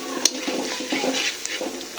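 Chili chicken stir-fried in a pan gives a soft sizzle under scraping stirring strokes and a couple of sharp clinks of a utensil on metal, brief and close.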